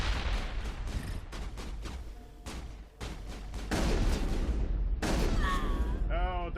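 Shotgun fire in the Mass Effect 1 video game: a rapid string of sharp blasts and booms, dense and loud, mixed with other game effects and occasional voices.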